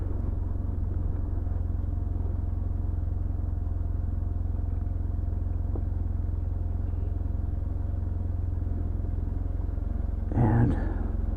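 A parked motorcycle idles close by in San Carlos, a steady low engine rumble with an even throb that holds throughout, broken briefly near the end by a short louder burst.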